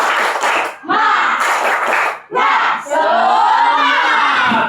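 Children in a classroom doing a rhythmic clapping chant, bursts of claps alternating with loud shouted group voices, then a long sustained unison cry, close and energetic.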